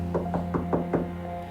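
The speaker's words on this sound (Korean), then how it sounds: "계속해서 멈추지 않는 노크 소리." Knocking on a door as a sound effect: five evenly spaced knocks in a steady rhythm over a low background hum, close and moderately loud.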